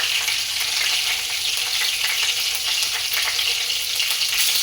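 Cumin seeds with ginger garlic frying in leftover oil for a masala brinjal curry make a continuous dense sizzle, close and even throughout, with faint crackle and no speech.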